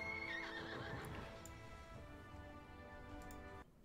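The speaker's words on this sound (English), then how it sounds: "My horse. Pretty horse." A horse in World of Warcraft whinnies briefly at the start, then a steady bed of game audio continues with faint hoof clip-clops, fairly quiet and cut off abruptly near the end.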